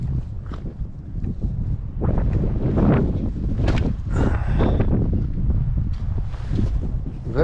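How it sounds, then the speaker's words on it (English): Strong wind buffets the microphone on an exposed mountain summit during a hike on Yonah Mountain, a steady loud rushing roar with gusts, with brief voice sounds mixed in. "Very windy too."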